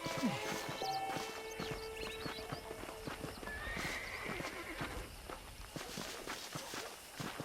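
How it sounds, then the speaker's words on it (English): Horses whinny and snort over steady clip-clopping hooves in the video game Red Dead Redemption, with a busy outdoor ambience of distant chatter and movement. "The horses are saddled up over here."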